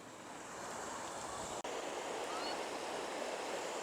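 Steady rushing water of a waterfall at a rocky rapids spot, continuous broadband roar at a moderate distance with no pauses.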